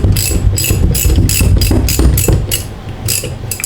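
A hand ratchet tightens the rear axle on a Harley-Davidson Shovelhead motorcycle, giving a steady run of close, loud clicking strokes, about two per second, over a low background hum.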